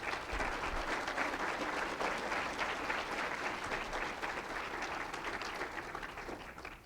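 Lecture audience applauding to welcome art conservator David Bomford before his talk on Van Gogh's materials and techniques: steady, dense clapping from a sizable crowd that slowly tapers off.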